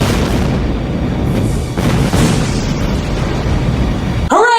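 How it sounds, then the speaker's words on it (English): A ship being detonated in a movie: a sustained, loud rumbling blast fills the clip, ending abruptly with a brief squeal of sound effects. "I'm just gonna detonate the ship and run away like a coward."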